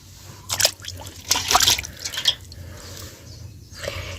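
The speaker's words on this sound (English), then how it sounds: "I'll just give it a quick wash, then put it in our saucepan where we are going to cook from." Pre-roasted cow foot pieces washed by hand in water for a village-style stew, giving bursts of splashing and dripping in a couple of close, short clusters over a faint low hum.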